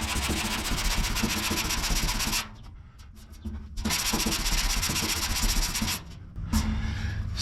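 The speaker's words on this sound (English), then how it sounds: "get the sander and run the sander over it and see if the sander makes contact with the whole surface" A power sander runs over the metal of a media-blasted Willys pickup bed, giving a loud, gritty, buzzing rasp that drops out briefly twice and then resumes.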